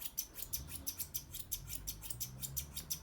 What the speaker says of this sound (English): So you brush the hair down and then scissor round to underneath the ear.